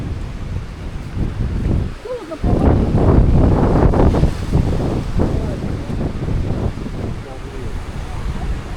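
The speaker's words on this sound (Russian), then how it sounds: "Гляньте там, как волны бьют в берег" Wind-driven waves break against the shore of a northern taiga island, a loud continuous wash and rumble with gusty wind buffeting the microphone, swelling midway; voices talk faintly through it.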